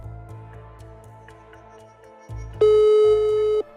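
A French telephone line sounding repeated low tone bursts through a handset, then a sustained steady higher tone near the end, loud and clear with no talk.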